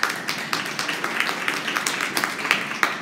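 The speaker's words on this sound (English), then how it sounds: "Let's give her a round of applause." Sparse, scattered clapping from a small audience at a live-streamed talk, a few distinct hand claps spaced out over a few seconds, fairly close and thin rather than a full ovation.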